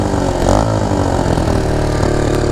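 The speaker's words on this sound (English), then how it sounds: "It's idling really high, I'm surprised." A Boom Vader Grom clone motorcycle engine idles high with the choke off, a loud, steady, close-up buzzing drone with a slight surge early on.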